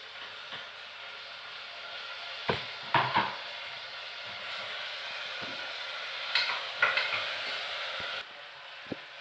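Green chillies and tomato dropped into hot oil in a pan for a dal curry, giving a faint steady sizzle with a few sharp clinks and stirring knocks scattered through.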